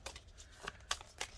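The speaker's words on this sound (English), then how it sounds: "So I shuffle these." Tarot cards being shuffled by hand, quick soft riffling flicks with a few sharper snaps, close and fairly quiet with no talking.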